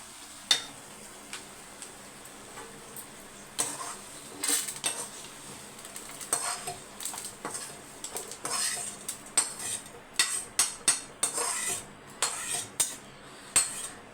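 Cooked food is served onto a plate with metal utensils, making repeated clinks and scrapes of spoon against pan and plate in an irregular rhythm, close and fairly quiet, with no talking.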